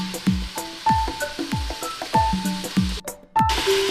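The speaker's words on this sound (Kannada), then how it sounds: "ಇದನ್ನ ಮೀಡಿಯಂ ಫ್ಲೇಮಲ್ಲಿ ಇಟ್ಕೊಂಡು ಈ ಥರ ಕ್ಲೀನಾಗಿ ಫ್ರೈ ಮಾಡ್ಕೊಳ್ಳಿ." Mutton pieces fry in a pan over a medium flame with a soft sizzle, broken by a regular rhythm of stirring or scraping strokes, about two per second, close to the listener and with no voices.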